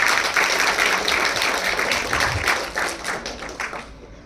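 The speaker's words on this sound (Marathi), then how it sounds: "आपण सर्वांनी पुन्हा एकदा जोरदार टाळ्या वाजवूया." Audience applause at a website inauguration ceremony, brisk clapping with some distinct near claps and a thud, tapering off toward the end.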